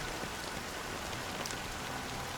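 Steady rain in a video game cutscene, a dense even patter of drops hissing without pause, soft and uniform, with no voices.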